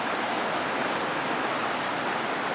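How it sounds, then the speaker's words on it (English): Water rushes through a creek at a gold sluice near Auburn, California, a loud, close, unbroken broadband roar of flowing current with no voices over it. "as you can tell, the water's moving in this area"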